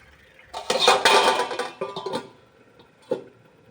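A metal lid clanks as it is lifted off a pot of simmering coriander chicken, a burst of close rattling and scraping followed by a single sharp clink after a pause.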